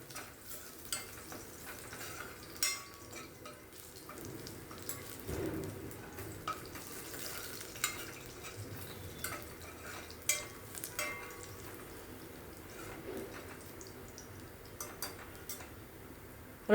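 Garlic frying in oil in a pan for a prawn and potato curry, a soft steady sizzle with occasional stirring clicks and scrapes, close by and fairly quiet, with no talking.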